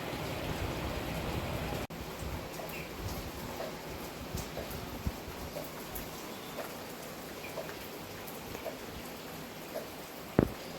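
Rain splashes steadily onto an open veranda in a rural Sundarban home, a soft continuous patter with scattered nearby drips and one sharp knock early on and another near the end.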